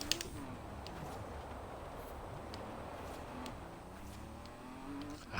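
A 2003 Nissan Fairlady Z races in Forza, its engine droning and revving steadily as tyres and passing cars add brief surges, continuous and fairly loud with no speech.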